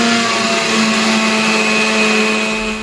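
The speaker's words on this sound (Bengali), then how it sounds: "প্রথমে ধনেপাতাটাকে বেটে নেব।" Blender grinding coriander leaves, a loud steady whirring motor drone that holds an even pitch throughout, close and alone.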